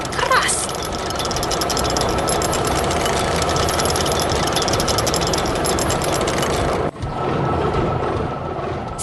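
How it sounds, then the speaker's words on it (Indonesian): A red tractor working a field with its plow, its engine droning at a steady, loud, rough rumble that briefly cuts out near the end and then resumes. "Traktor merah sedang menggemburkan tanah dengan plow-nya"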